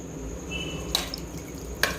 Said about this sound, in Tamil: 2 டம்ளர் அரிசிக்கு 5 டம்ளர் தண்ணி ஊற்றியிருக்கேன்.